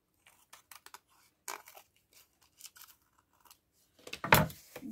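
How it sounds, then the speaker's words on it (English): Scissors snip through a cardboard macaroni box in a series of short, crisp cuts, a few scattered clips building to a louder crunch and crinkle of the trimmed piece near the end. "I'm going to trim this off."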